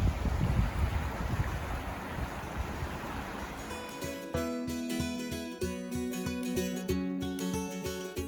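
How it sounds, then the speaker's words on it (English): Steady wind roars at a winter wilderness campsite in the Cohutta Wilderness, a broad rushing noise that changes partway through into a rhythmic flapping, like fabric or a tent buffeting, with no voices. "so it's windy right now"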